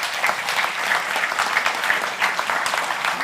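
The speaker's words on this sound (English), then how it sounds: "Please give a round of applause to the panel." A conference audience gives the panel a round of applause: steady, fairly loud clapping from a crowd that carries on evenly without any voices over it.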